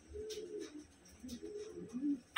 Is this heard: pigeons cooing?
yes